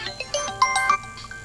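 A telephone plays a bright melodic ringtone, a quick run of clear electronic notes repeating close and loud over a quiet room.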